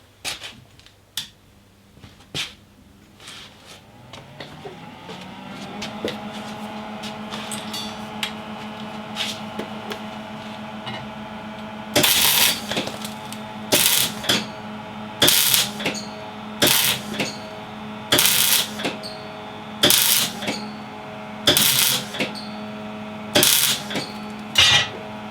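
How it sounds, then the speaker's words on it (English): Short pulses of welding fill a drilled hole in metal, about nine sharp, crackling bursts evenly spaced over a steady machine hum, each burst brief and loud, with no talking. "So doing it in short pulses of weld"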